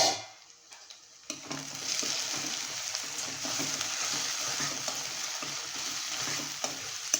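Chopped onions sauté gently in a pan over a low flame for soya kheema, a soft steady sizzle that starts after a brief quiet moment, with faint scrapes of stirring throughout.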